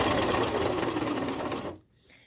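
A Brother coverstitch sewing machine stitches fabric with a fast, steady mechanical whir up close that stops abruptly near the end, leaving quiet.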